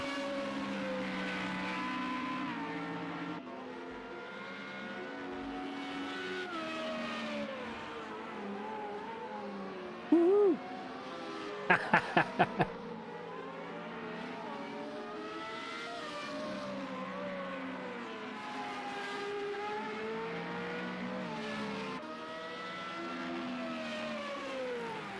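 Several race cars circle a track in a racing video game, their engines droning and shifting pitch steadily throughout, with a brief burst of clicks and a short sharp noise partway through.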